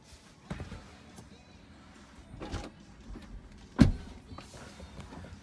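A Tesla Model 3 door opens close by with a brief electric window whir, then a sharp latch click and thump in a quiet setting.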